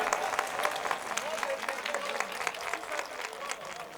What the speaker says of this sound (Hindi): एक बार जोरदार तालियां यार अतुल भाई के लिए